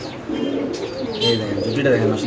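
A large Bombay pigeon held in someone's hands coos and rustles close by, with people talking over it throughout.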